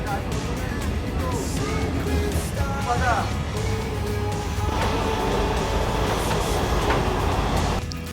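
A passenger express train rumbles along steadily with continuous rolling noise and occasional squeals, under people talking nearby.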